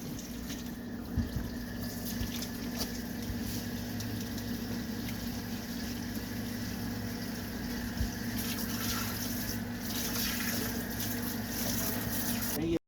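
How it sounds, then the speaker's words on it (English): Tap water runs steadily into a sink as hands are washed before cooking, a continuous close splashing hiss with only faint voices in the background. "First ingredient of every recipe is wash your hands, ain't it?"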